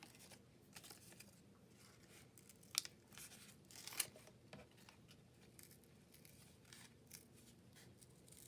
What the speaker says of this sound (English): I'm going to cut this kind of the size that I want it to be